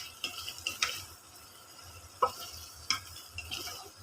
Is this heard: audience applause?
no